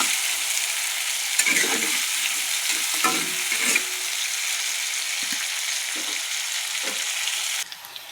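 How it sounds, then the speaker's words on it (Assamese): Onions fry in a pan with a steady, close sizzling hiss, and a spoon scrapes and stirs them in short, irregular strokes. "এতিয়া এইখিনি ভালকৈ ভাজি ল'ব লাগিব।"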